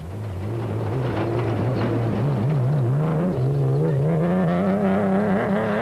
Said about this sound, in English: The misfire persisted.